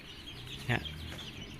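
Newly hatched chicks, up to two weeks old, sit in a simple brooding pen made from a pipe; one brief, faint cheep or cluck rises over steady background hiss.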